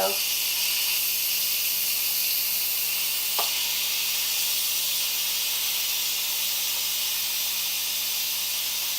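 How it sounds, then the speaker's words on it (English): An Instant Pot pressure valve vents steam while cooking Dijon shrimp linguine, giving a steady, loud, continuous hiss that holds without break for the whole stretch. "So we're going to slowly release the pressure valve"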